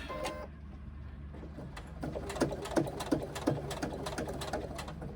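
A sewing machine stitches through vinyl without a walking foot, a fast steady mechanical whir and tapping needle rhythm, close and fairly quiet, running alone.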